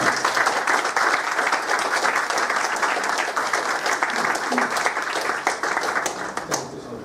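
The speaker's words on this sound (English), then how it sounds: "I hope you join me in applauding Bhasin Sahab." An audience at a book event on India-China relations applauds the compiler of the documents. The clapping is loud and sustained for about seven seconds, dense with many hands, then thins slightly near the end.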